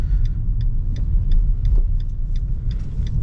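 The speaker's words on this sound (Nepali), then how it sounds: "यो चाहिँ मेरो 2021 को ब्रेजा हो।" A 2021 Maruti Suzuki Brezza ZXi Plus driving on a riverside road in Kathmandu's Mid-Baneshwor area, heard from inside as a steady low engine and road rumble with a faint regular ticking, no talk.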